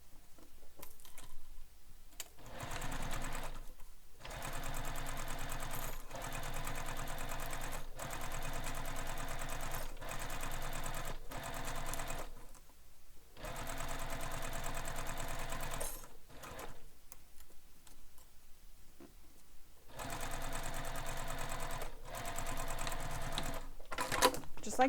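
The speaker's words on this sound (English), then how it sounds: "now we're going to stitch this in place using the seam allowance given in the pattern" Sewing machine stitching a handbag seam in several steady runs of rapid, even mechanical whirring, broken by short pauses, close and alone.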